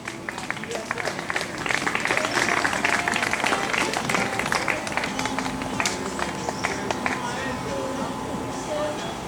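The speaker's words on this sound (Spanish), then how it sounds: "Denle un aplauso a Jesucristo." A church congregation applauds with dense, sustained clapping, moderately loud, with some voices mixed in.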